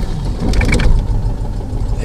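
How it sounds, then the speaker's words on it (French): A Citroën 2CV6 flat engine, started with a key and no throttle, turns over and settles into a low, steady idle, close and fairly loud with a brief rattling catch early on. "Et là, ça démarre"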